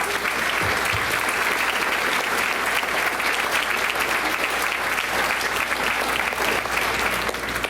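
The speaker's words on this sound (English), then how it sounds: "I want a round of applause for somebody that really is a part of that." Sustained applause from an audience at a school board meeting, steady dense clapping that holds at an even level for the whole stretch without talk.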